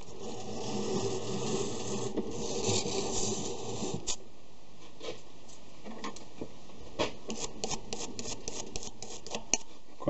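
Emery cloth rubs over a machined metal grease-dispensing tip for a metal lathe, giving a dense scratchy rasp at first, then scattered short scrapes and ticks, fairly quiet and close.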